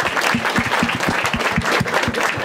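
Audience applause for a comedian named Rane at a Marathi stand-up comedy crowd-work show, dense steady clapping from a close crowd that runs evenly throughout.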